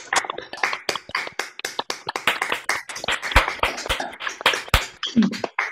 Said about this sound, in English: let's have an enormous round of applause for the eight poets.